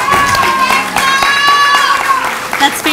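A crowd at an outdoor event in Sacramento applauds and cheers, with dense clapping and a sustained whistle or call. A voice talks over it.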